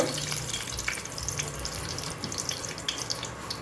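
Steady, loud crackling sizzle of chilies frying in hot oil, continuous and close, with no talking.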